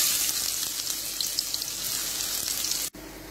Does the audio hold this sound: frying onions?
yes